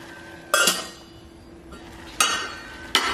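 A metal lid set onto a cooking pot of simmering ash gourd and red beans for an Onam feast, producing three sharp clanks spread over a few seconds, close and loud with quiet kitchen background between.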